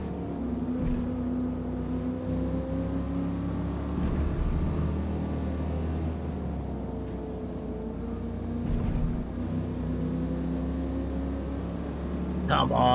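A car engine in Gran Turismo 7 drones steadily with a torquey, harmonic hum that holds at a constant pitch with slight swells, loud and continuous throughout.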